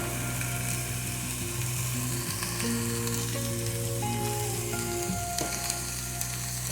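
Ground beef with zucchini sizzles steadily in a pan while being stirred. Scraping and clattering from the utensil come at intervals over a constant frying hiss.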